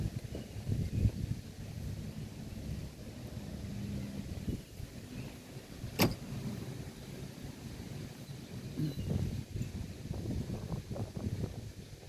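Outdoor wind blows steadily with low rumbling gusts buffeting the microphone, rising and falling over twelve seconds, with one brief sharp tick midway.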